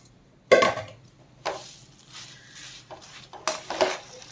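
A spoon slowly mixes leftover pieces of a quick snack in a metal pan, scraping and clinking in a few close, unhurried strokes with quiet gaps between, no talking.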